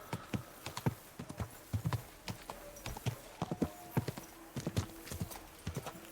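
Horse hooves clip-clop at a brisk gallop in Kingdom Come Deliverance 2, sharp rhythmic hoofbeats close up with a short whinny and some faint background game sounds.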